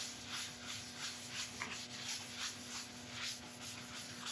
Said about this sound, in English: now over the top with the standard shellac